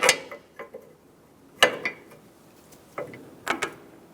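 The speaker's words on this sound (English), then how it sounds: "Break the outer tie rod nut free." A wrench works the outer tie rod nut loose on a 2012-2020 Chevrolet Sonic, giving a few sharp metallic clanks spaced out over a few seconds, close and clear in an otherwise quiet space.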